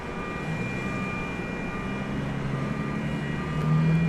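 Steady airport ambience with a broad engine roar and faint tonal hums as a Martinair Cessna 208B Super Cargo Master comes in at DFW Airport at night, swelling slightly louder near the end.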